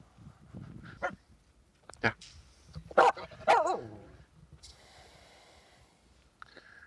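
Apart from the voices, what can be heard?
dog barking at its echo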